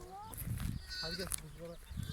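A grazing flock of sheep and lambs bleats at close range outdoors, with several overlapping calls in short bursts and someone speaking quietly in between.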